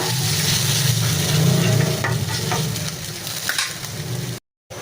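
Rui fish pieces with chopped ginger frying in hot oil sizzle steadily and loudly after a splash of water, a dense crackling hiss with a few stirring scrapes, then a brief cut.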